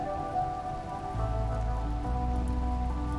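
Steady rain in the RimWorld video game, a continuous soft patter and wash of falling drops over a low background hum, moderately quiet with no voices.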